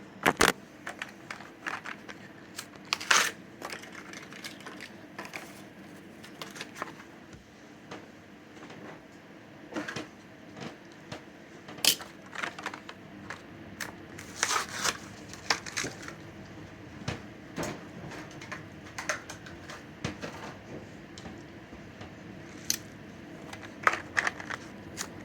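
Diecast toy cars being unboxed, with repeated crinkles, crackles and sharp plastic and cardboard handling noises scattered through a quiet room, close and moderately loud, with no talking.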